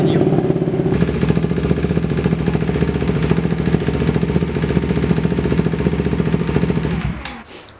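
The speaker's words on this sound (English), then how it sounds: "now we can start the bike back up again" A motorcycle engine idles steadily nearby while warming up after new coolant is added, a constant low rumble with a faint whir that drops away at the end.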